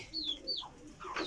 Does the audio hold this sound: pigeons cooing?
yes